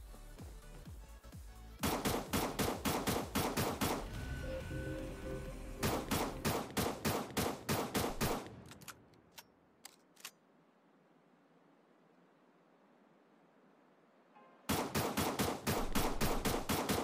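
Rapid bursts of shotgun fire from the Creative Destruction battle game, loud and close, firing in repeated fast volleys with a quiet pause before a final burst.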